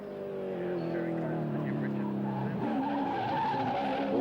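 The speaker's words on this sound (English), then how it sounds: "Oh, out of there, tyres squealing out towards the wall." Tyres on a Cadbury Schweppes touring car squeal as it slides out toward the wall across the top of Mount Panorama at Bathurst, with a loud, continuous engine drone running throughout.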